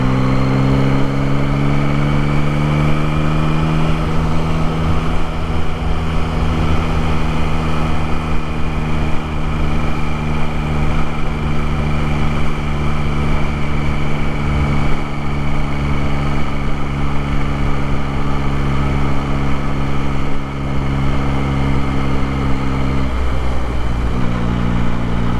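A 2024 Yamaha MT-09 motorcycle engine runs steadily while riding during break-in, a loud continuous mid-pitched drone with near-constant revs and no talk.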